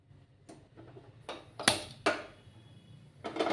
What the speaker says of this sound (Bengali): তাহলে এখন আমি গ্যাসটা জ্বালিয়ে দেব।